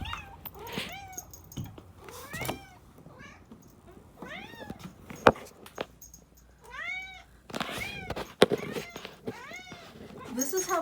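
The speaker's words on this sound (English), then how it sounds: "I just want you to hear this crazy ass meowing." A cat meows insistently and loudly, repeated drawn-out calls one after another, close by, with a person talking in between.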